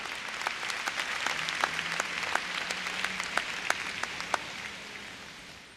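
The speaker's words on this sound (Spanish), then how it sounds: "Vamos a darle un aplauso al Señor en esta tarde." A church congregation applauding during a service, moderately soft and fairly distant, with a steady wash of clapping and a few sharper individual claps standing out, tapering off at the end.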